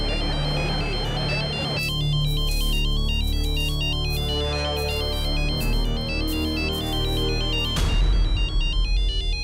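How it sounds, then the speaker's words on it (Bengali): A phone ringtone plays a loud, continuous electronic melody for several seconds, bright and repetitive, with a slight shift near the end. "বাবা বাবা ফোন।"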